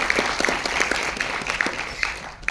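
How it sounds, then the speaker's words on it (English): Audience applause welcomes a panelist at a sustainability leadership award panel during a youth entrepreneurship summit, steady clapping from a moderate-sized crowd that stays fairly soft and even, with scattered individual claps standing out. "Please give a round of applause"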